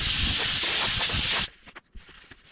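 A close, loud blast of compressed air blows off a roughly three-foot-square wood piece before an epoxy seal coat, lasting about a second and a half before stopping abruptly, followed by a few soft knocks.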